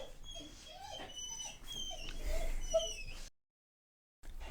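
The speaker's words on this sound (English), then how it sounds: "dog just wanted to cry" A dog whimpers and whines close by in a run of high, wavering cries for about three seconds, quiet overall, followed by a short silence and a brief resumption.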